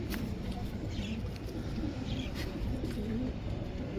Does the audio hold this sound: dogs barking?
no